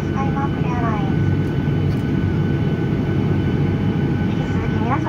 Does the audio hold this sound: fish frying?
no